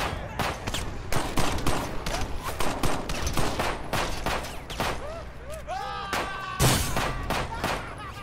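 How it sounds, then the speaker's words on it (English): Dense gunfire from the video game Crackdown, rapid repeated shots and bursts filling the whole stretch with loud thumping impacts and explosive blasts, plus synthetic game effects near the end. "Oh, I see you just standing here shooting."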